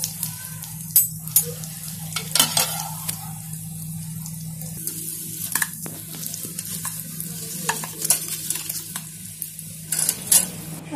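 Chicken cheese samosas fry in oil with a steady, fairly quiet sizzle, broken by repeated clinks and scrapes of a utensil stirring; no one speaks.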